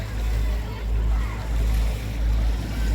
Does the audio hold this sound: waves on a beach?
yes